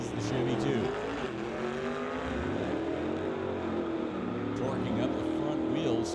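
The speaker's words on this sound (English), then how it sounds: "Scott Winterbottom charges down the quarter mile in the Lordco lane" Old-time drag racing cars, a Ford Fairlane and a 1963 Chevy II, on a quarter-mile strip; a steady roaring engine drone with shifting pitch, continuous and moderately distant.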